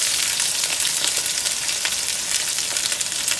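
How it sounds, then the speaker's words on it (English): Peppers, onions and carrots sauté in a teaspoon of oil, a loud steady sizzle with faint crackles, close and unbroken, no talking. "I'm just gonna go ahead and saute my vegetable and add my sauce to the vegetable"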